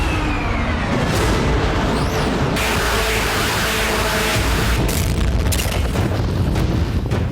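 Deep booming blasts from drone and missile strikes on Crimea, a dense, continuous roar of heavy explosions and rumbling with no pauses, loud and saturated throughout.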